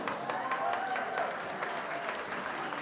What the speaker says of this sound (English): Let's give a round of applause for Dorothy Morris, ladies and gentlemen.